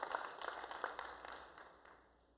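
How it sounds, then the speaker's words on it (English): A church congregation claps their hands in a faint, scattered burst of applause that thins out and fades over a couple of seconds, heard at a distance with no talk. "Give the Lord a hand clap"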